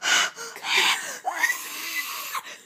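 A voice imitates heavy panting with breathy, wheezing gasps in several loud, close bursts and a short pause between them.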